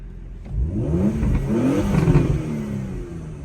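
Porsche Macan GTS engine revving with the windows down, a close rise in engine pitch to a throaty peak, held briefly, then falling back toward idle.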